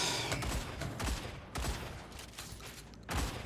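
Gunfire in the video game Marvel Rivals comes as repeated bursts of rapid shots, several separate volleys over a few seconds with brief gaps, loud and dense.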